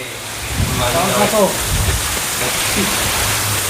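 Heavy rain falling outside a Konkan village home during a Tulsi Vivah celebration, a steady broadband wash of downpour throughout, with people talking over it in the middle.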